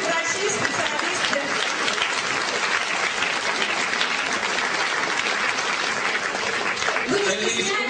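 An audience applauds as doctors and specialists walk onto a stage, dense steady clapping filling the room for the whole stretch with a few voices mixed in.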